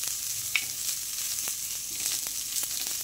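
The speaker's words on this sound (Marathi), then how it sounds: "कांदा तेल टाकूनच भाजायचा, एकदम छान भाजला जातो।" Onion frying in oil in a pan over a medium gas flame, for a village-style mutton rassa; a close, even sizzle holds steady throughout with faint stirring ticks and no talking.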